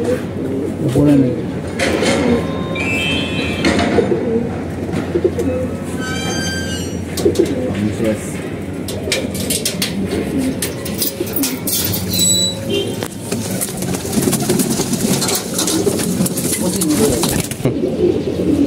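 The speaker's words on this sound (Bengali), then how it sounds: "আমার কবুতরটা" Several domestic racing pigeons keep up low, rolling coos near the microphone, overlapping and steady, with occasional clicks and a person's voice mixed in.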